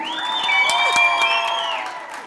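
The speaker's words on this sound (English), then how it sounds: "A big round of applause for the lazy Makoti." Audience at the Cooking for Dreams charity event at Empress Palace applauding the lazy Makoti, with a continuous wash of cheering, whoops and shouted voices over light clapping, loud and close.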